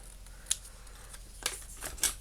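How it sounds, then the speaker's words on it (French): Scissors snip scrap paper to make tags, a few short, crisp cuts spaced apart in a quiet room. "On va le couper ici."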